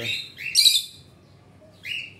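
Pet birds let loose in a room give a few bright, high chirps and tweets in short bursts, with quiet pauses between them.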